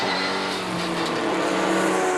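A front-wheel drive Seat race car on a slippery track passes with a loud, continuous engine roar and tyre noise, steady throughout without any talk.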